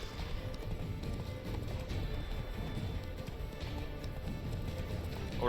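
A horse gallops in The Witcher 3, its steady rhythmic hoofbeats running continuously at moderate loudness against game ambience, with a brief louder burst at the very end.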